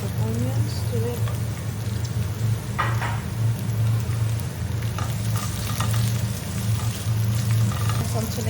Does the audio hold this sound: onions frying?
yes